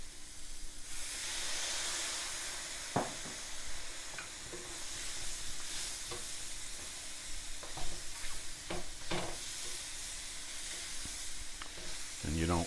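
Mushrooms sauté in a pan with a soft, steady sizzle and hiss beneath occasional light clicks and scrapes of stirring. The sound stays faint and close.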